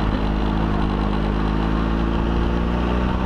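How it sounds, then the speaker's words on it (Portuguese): A motorcycle engine runs steadily and loudly at close range on a seaside city street beside a garden, a continuous mid-pitched drone with no voices. "eu vou ver se paro a minha moto assim aqui, junto ao jardim"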